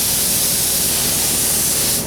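DeVilbiss GTI spray gun painting an engine block with a slightly narrowed fan: a steady, loud, continuous airy hiss runs unbroken from start to finish, close to the gun, with no talking.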